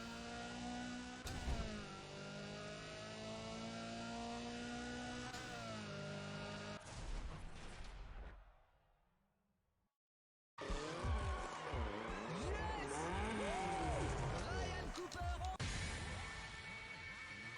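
A racing car in Need for Speed: ProStreet revs and roars with tires squealing, fades into a couple of seconds of silence, then surges back loudly.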